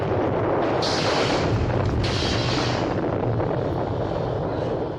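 Torpedo explosions striking a warship in a 1965 war film set in the Pacific, heard as dense, continuous low rumbling with two bright bursts of blast noise, loud and sustained without speech.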